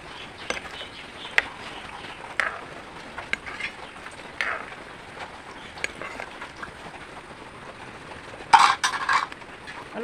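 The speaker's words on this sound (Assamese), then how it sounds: "লৰাই দিছোঁ।" Spoon scraping and tapping against a pot as boiling pork (gahori) is stirred, with scattered light metallic knocks over a steady low bubbling hiss, close by, with no talking.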